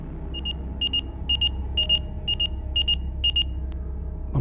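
A pager goes off with seven quick bursts of high electronic beeping in a steady rhythm, clear and close over a low room hum, with no talk.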